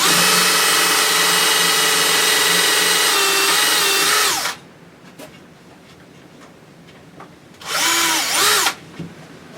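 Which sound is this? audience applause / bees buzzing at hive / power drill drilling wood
power drill drilling wood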